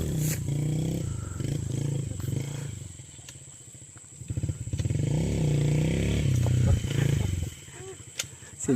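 An enduro motorcycle engine revs and labors on rough ground, loud and close, its rising and falling roar heard alongside people talking.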